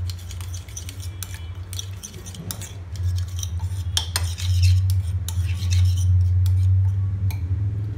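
Tomato salad with green chili and chopped coriander leaves being mixed in a bowl, with a steady run of light clinking and scraping from a spoon against the dish. No one speaks, and a low hum sits underneath the whole time.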